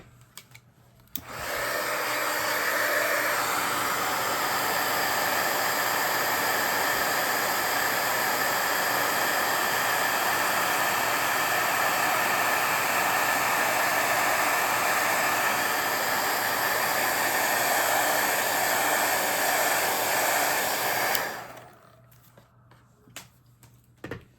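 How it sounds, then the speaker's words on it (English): A heat tool blasts steadily for about twenty seconds while heat-setting a Halloween craft project, a loud, even whooshing roar that cuts off abruptly near the end, with no talking over it. "Let's quick heat set this."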